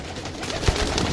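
Pigeons offered for sale at a market coo in a low, soft burst amid a dense, noisy background of continuous ambient hubbub.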